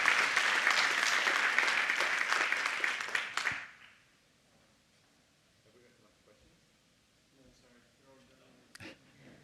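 A crowd applauds speaker Stefan after his talk, loud sustained clapping from many hands that cuts off abruptly partway through, leaving a quiet room with only faint rustles and small noises.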